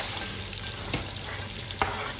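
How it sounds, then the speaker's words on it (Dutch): Fish frying in hot oil for a dry fish curry, a steady crackling sizzle with a couple of brief clinks or scrapes, no voices. "Een beetje extra olie gezet om die vis te bakken."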